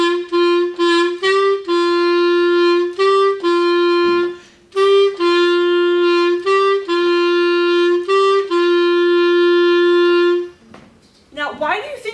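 A clarinet plays a short 6th-grade lesson piece of G's and A's, a string of clear sustained notes close up, repeated in short phrases with brief breaths between them, alone with no talking.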